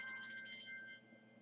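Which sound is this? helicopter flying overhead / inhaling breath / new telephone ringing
new telephone ringing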